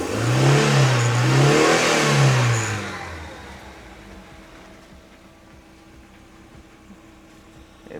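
A car engine with about 100,000 miles on it revs up twice in quick swells, loud and close, then drops back to a low, quiet idle rumble for the rest of the clip.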